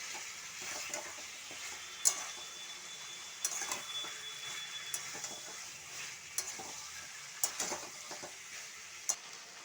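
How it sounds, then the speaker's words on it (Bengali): Ginger paste frying with chicken pieces in a pan for methi chicken gives a soft, quiet sizzle, broken by scraping stirs and sharp spatula clicks every second or so. "আমি একটু আদা বাটা দিয়ে দিলাম, দিয়ে আদাটা একটু ভালোভাবে ভেজে নেবো মাংসের সাথে"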